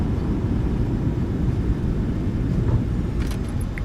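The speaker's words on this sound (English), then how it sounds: "Goes down gently, reversers are out, decelerating." A simulated Boeing 737-800 rolls out after landing with thrust reversers deployed in a flight simulator game, a dense, steady low roar and rumble with faint higher clicks near the end.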